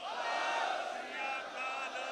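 A large crowd at a Punjabi political gathering roars the Sikh jaikara reply to Bole So Nihal, a sustained, loud, unified shout from many voices that swells and dips across the clip.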